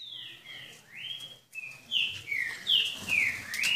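Caged female mutation saltator with a white face calls in a series of bright, sliding whistled notes, several rising and falling phrases close to the microphone with no talking.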